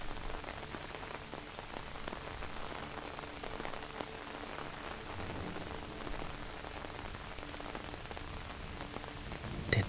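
Steady rain falling, an even soft hiss with scattered close droplet taps, continuous and unchanging with no voices.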